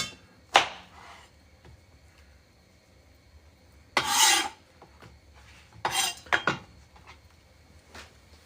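A knife slices through fresh rinsed Brussels sprouts on a board in a handful of short, crisp rasping cuts separated by quiet gaps, with a cluster of quick strokes near the end.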